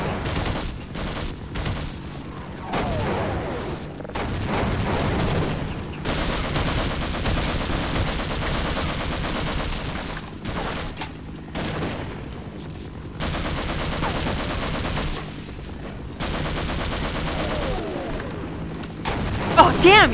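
A helicopter fires in the Half-Life video game, loud bursts of rapid machine-gun fire broken by short pauses, with occasional explosions and a voice talking at times.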